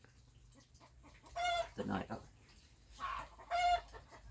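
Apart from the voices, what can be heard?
chicken clucking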